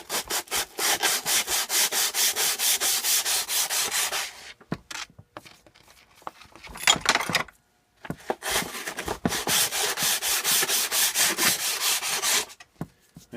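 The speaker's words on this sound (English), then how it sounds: "take some sandpaper here and just lightly go over it here" Sandpaper rubbed by hand over a metal part from a 1987 Briggs engine, quick rhythmic back-and-forth scratchy strokes in two long bursts with a short pause of scattered scuffs between, close and loud, no voices.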